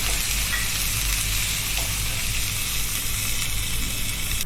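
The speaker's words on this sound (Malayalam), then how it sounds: "ഇതിലേക്ക് ചോപ്പ് ചെയ്ത വെളുത്തുള്ളി, ഇഞ്ചി, പച്ചമുളകും ചേർത്ത് 1 മിനിറ്റ് നന്നായി ഒന്ന് ഇളക്കാം." Chopped garlic, ginger and green chillies fry in hot oil in a pan while being stirred, giving a steady, even sizzle with no talking.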